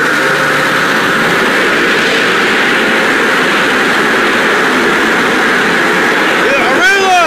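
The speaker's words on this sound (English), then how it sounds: "The blower's about to come on." Blower dryers in an automated Aqua Jet car wash with a Magic Wand Nexus system, heard from inside the car as a loud, steady roaring rush of air, with a brief whine near the end.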